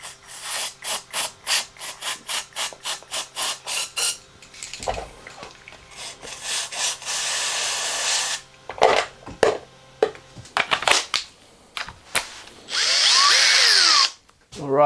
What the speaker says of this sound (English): let's use the drill to turn the bearing and put some stuff in there at the same time.